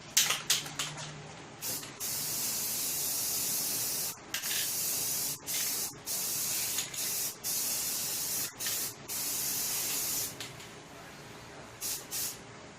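Spray paint hisses in repeated bursts of a few seconds each, separated by short pauses, as another coat goes onto the wheels of a 1959 Riverside scooter in a workshop. A fan runs steadily in the background.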